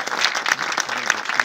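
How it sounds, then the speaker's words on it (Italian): Audience applause after a cast member named Stefano is introduced at a presentation of the Italian series Monarch, a steady spread of clapping across the full moment at moderate level with no talk over it. "Applauso a Stefano."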